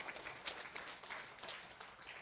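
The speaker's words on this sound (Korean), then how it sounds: "이분 더 건강하시라고 우리 박수 한번 주십시오" An audience at a health lecture gives a short round of applause, a faint, distant patter of many hands clapping for a couple of seconds.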